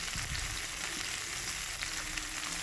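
Mixed vegetables such as radish, potato, sweet potato, mustard stems, beans, pumpkin and carrot sizzle and fry steadily in a hot pan, a dense continuous hiss with no talking.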